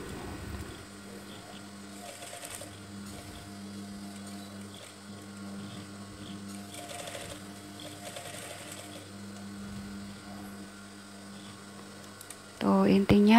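A sewing machine stitches along a drawn line with a steady mechanical hum and rapid needle rhythm, running continuously before stopping near the end as a voice speaks.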